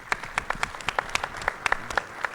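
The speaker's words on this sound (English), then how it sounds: "I'd like everyone to give a round of applause to Jean and to this great panel" A conference audience applauding a panel: a short burst of distinct, crisp claps from a modest crowd, fairly close, with no speech over it.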